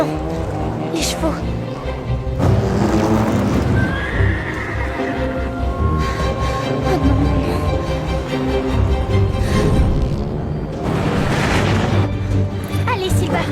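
Horses whinny amid a loud, busy mix of hooves, engine-like rumble and people speaking, everything close and constant.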